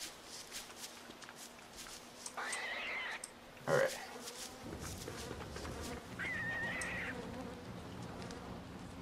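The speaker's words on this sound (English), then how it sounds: "Hear a bee. Oh no, it's the flies." Flies buzz near a carrot patch in a few short droning bursts, mixed with footsteps and background movement while someone talks.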